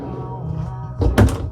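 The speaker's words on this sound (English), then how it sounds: "They put a nice strong magnet on the back side of this barn door." The barn door of a 2020 Keystone Montana 3741FK fifth wheel swings shut and catches on a strong magnet, ending in a sharp close thunk with a brief rattle after a stretch of quiet room tone.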